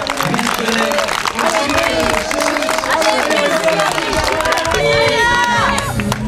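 A crowd lining the course of the 10 km des Sables d'Olonne race claps and cheers for passing runners, a dense, continuous wash of noise with an announcer talking over it throughout.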